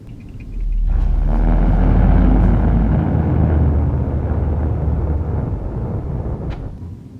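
Isopropanol vapour ignited with oxygen inside a bottle, lit by a match on a yardstick, gives a loud sustained roaring whoosh that swells suddenly and rumbles on for several seconds like a jet engine, ending with a faint click.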